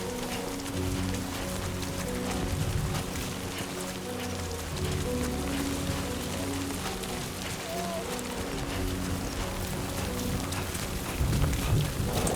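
Rain falls in the video game Death Stranding 2: On the Beach, a dense, constant patter over a low musical drone and soft background tones, steady and loud throughout.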